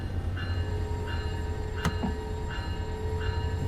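An EMD F125 passenger locomotive runs in Train Sim World 5 with a steady low rumble and rail noise. A brief sharp click cuts in midway, and faint tonal whines repeat in the background.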